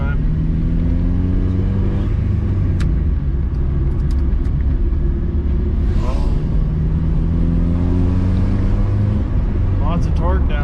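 A car with a Honda H22A engine drives along, a loud steady engine drone and road rumble with slight rises in revs, heard close from inside the cabin.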